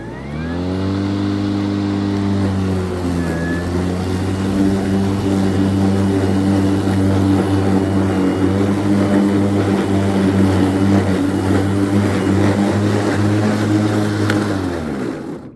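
A Milwaukee or EGO self-propelled mower runs steadily and close, a loud droning whine holding constant for about fifteen seconds before cutting off at the end.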